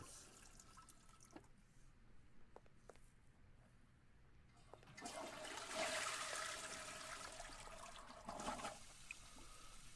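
A toilet flushes in the Sims 4 video game, starting with soft drips and trickles, then a rushing whoosh of water that swells and fades, moderately quiet.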